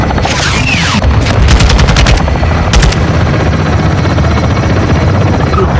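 Helicopter rotor thrum in a first-person shooter game, loud and close, carries rapid bursts of heavy machine-gun fire in two volleys over steady background rumble.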